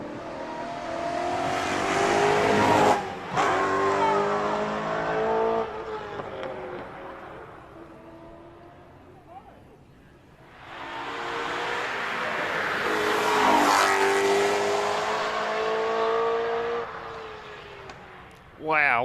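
A rally competition car on a special stage near Wairoa climbs a hill, its engine loud and rising through the gears, easing and revving again, then dropping away before a second howling pull builds.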